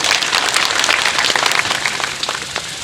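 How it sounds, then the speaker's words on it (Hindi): Villagers clap together at a rural BJP village meeting, a dense, loud burst of applause that holds steady before easing off slightly toward the end. "थोड़े बहुत ताली बजा दीजिए दोनों के लिए"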